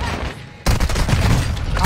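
Gunfire in a video game shooter erupts suddenly after a quieter moment, a loud, dense volley of rapid shots crackling continuously to the end.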